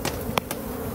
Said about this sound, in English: Inside, we've got quite the collection of bees.